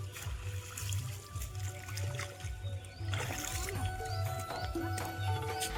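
Bel leaves swished and rinsed in pond water outdoors, with soft splashing, trickles and rustling close by, steady and moderately loud, birds faintly in the background.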